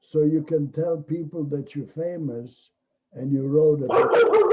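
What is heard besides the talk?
dog barking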